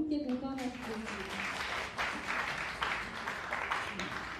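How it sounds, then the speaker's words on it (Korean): Audience applause at a forum on energy and nuclear power, a steady wash of clapping from a crowd that follows a brief voice at the start and holds evenly to the end. "큰 박수로 함께 공감하셨습니다"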